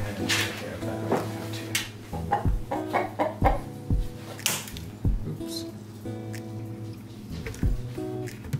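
Close, low clucking from a calm rooster being handled for spur trimming, in short repeated bursts, mixed with handling knocks and faint background noise.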